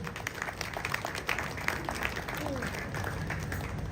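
Scattered applause from a crowd at a live ceremony in Ghana, a steady patter of many hands clapping at a moderate distance, with faint voices mixed in.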